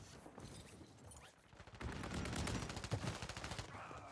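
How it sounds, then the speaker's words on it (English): Gunfire crackles in a Warzone 3 firefight on Rebirth Island, starting as scattered shots and swelling after a second or so into dense, rapid bursts that carry on steadily through the rest. "Them boys down here shooting it out."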